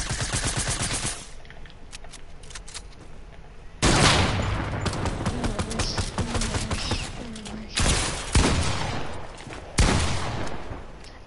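In Fortnite, SMG bursts and loud pump shotgun blasts go off in a fight. The sharp, heavy reports and rapid rattles repeat irregularly at close range, with quiet gaps between volleys.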